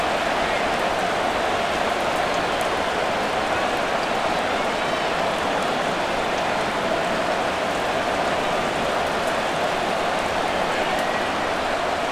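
Rain falling during a simulated Madden NFL 24 football game between the Arizona Cardinals and Cleveland Browns, a steady, dense hiss of downpour at constant loudness for the whole stretch, with no voices or other sounds over it.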